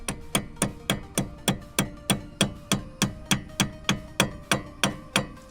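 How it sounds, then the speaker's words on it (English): Rapid, even metallic hammer taps on a rear brake pad pin of a 2020-2023 C8 Corvette, about three per second, ringing briefly after each strike, close and steady throughout. "you can go ahead and use a hammer"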